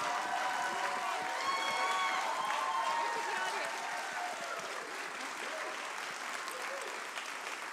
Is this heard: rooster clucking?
no